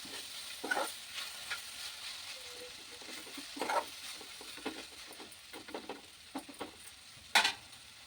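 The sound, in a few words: frying drumstick leaves with turmeric in a pan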